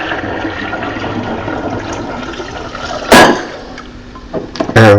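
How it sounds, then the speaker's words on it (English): Cold tap water pours into a bottle for homemade apple wine, a steady continuous rush of liquid filling the vessel, with a couple of sharper clunks and splashes near the end. "I'm also going to add just under a litre of cold tap water."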